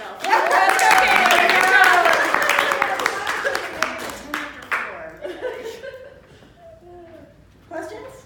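Brief burst of clapping from a small group after a presentation, mixed with laughter and lively chatter, thinning into scattered voices and a few stray claps.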